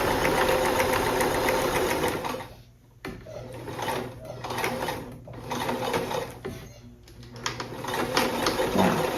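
Home sewing machine stitching a fabric blessing bag, a loud steady mechanical whir with a couple of brief pauses where the motor stops and restarts, with faint talk over it.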